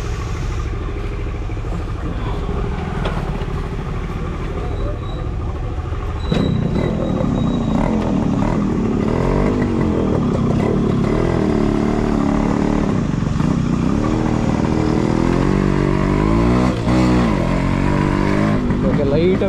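Yamaha RX motorcycle engine running outdoors in the evening, a two-stroke machine with a stated pickup issue, idling and revving with rattly clatter, steady and loud throughout while someone talks over it.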